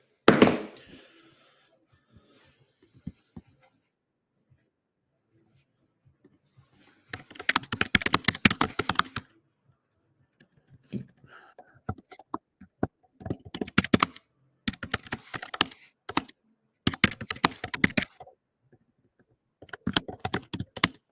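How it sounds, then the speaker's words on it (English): Rapid clicking on a computer keyboard as notes are entered into a portal, coming in several bursts of steady typing separated by quiet pauses, close and clear. "when I'm typing here, what I'm doing is I'm filling in notes to my portal"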